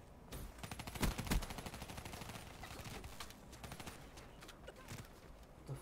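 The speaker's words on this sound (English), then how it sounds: "Oh, I got shot from behind." Rapid bursts of automatic gunfire in the multiplayer shooter Call of Duty: Black Ops 3, loudest early and then thinning into scattered distant shots over a low game background.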